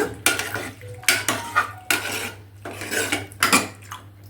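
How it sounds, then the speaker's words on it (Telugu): A spoon stirring sweet bottle gourd curry in a pan on the stove, with repeated bursts of scraping against the metal pan over a low steady hum. "ఇది ఒక్క హాఫ్ నిమిషం ఇలా స్టవ్ మీద పెట్టి ఇలా తిప్పుకోవాలండి మొత్తం తాలింపు అంతా కలిసేట్టు"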